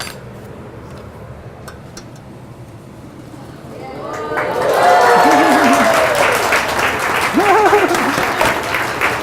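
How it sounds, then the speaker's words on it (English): Partway through a vegan Thanksgiving cooking class, an audience breaks into applause that swells and carries on beneath people talking and cheering. "You guys better clap."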